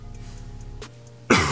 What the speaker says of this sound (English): Ugh, still got that cough.